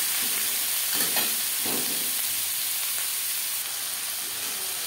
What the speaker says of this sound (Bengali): পেঁয়াজ টমেটো হালকা করে ভেজে নেব।